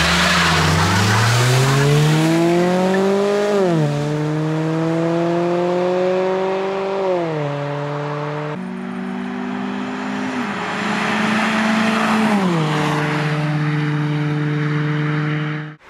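A chipped Lada Granta 1.6 and a 2-litre Kia Cerato drag race, engines roaring close by as they accelerate hard, pitch climbing and dropping through gear shifts, with screeching wheelspin tire squeal layered over the run.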